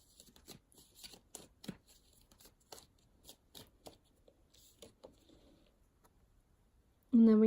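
A deck of guidance cards is shuffled by hand in a steady run of soft, quick riffling taps, close and fairly quiet, ending with a brief louder sound.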